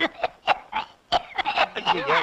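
A series of short, harsh coughs in quick succession, close and fairly loud, with a few throaty breaths mixed in.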